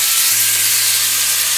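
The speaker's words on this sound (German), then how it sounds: "Heißes Wasser hinzufügen." Hot water poured into a hot frying pan holding browned wild garlic and minced meat dumplings, giving a loud, steady broadband hiss and sizzle that runs without a break from start to finish.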